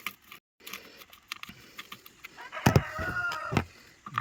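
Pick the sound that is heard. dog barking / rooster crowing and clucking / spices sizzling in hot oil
rooster crowing and clucking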